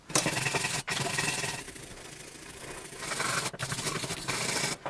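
A wire brush is worked over rusty Elliott Lucas PW 2163-10 pliers, giving a continuous, close, dry rubbing and scraping texture with a couple of brief pauses between strokes.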